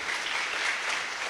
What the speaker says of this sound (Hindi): ओके, ताली बजा सकते हैं।